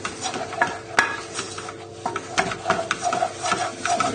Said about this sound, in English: we'll just turn the heat off and stir that in